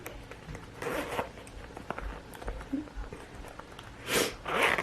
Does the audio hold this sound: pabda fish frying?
no